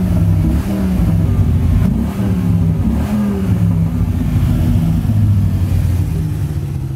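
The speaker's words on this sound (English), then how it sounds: "Torquey V10, dude, literally shakes the truck." A Dodge Ram SRT-10 truck's V10 engine revs loud and close, a deep, steady growl with shifting pitch that holds for the whole stretch, with no talking over it.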